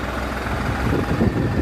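A tractor's diesel engine, freshly tuned by a mechanic, runs at a steady rumbling idle close by, alone without talk, then cuts off abruptly.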